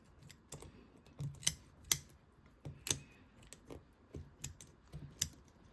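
Scissors snip through a sunfish skin during taxidermy skinning, a run of about a dozen sharp, close, quiet clicks at irregular intervals with no talking.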